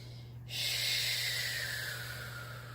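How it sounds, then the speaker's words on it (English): A long breath exhaled through the teeth during a gentle yoga exercise, one steady airy hiss that starts abruptly and slowly fades, close and alone over a low constant hum. "give a squeeze and exhale out your teeth"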